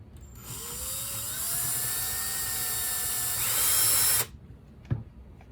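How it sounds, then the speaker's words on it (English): A cordless drill on its lowest clutch setting unscrews screws from a vintage Sears/Sanyo desk fan, whining steadily for about four seconds, pitch rising slightly, then stopping abruptly, followed by a small clatter. "I'm still gonna use my drill for this"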